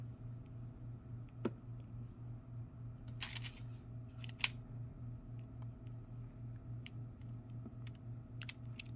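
Sparse, sharp clicks ring out over a steady, rhythmically pulsing low hum. The sound is faint and even, with no one speaking.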